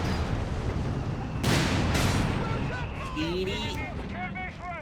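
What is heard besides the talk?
artillery fire in Company of Heroes 3 video game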